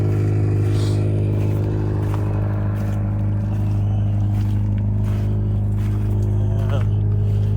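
A car engine idles loudly and steadily up close at a police auction, a constant low rumble with some clatter while someone talks over it.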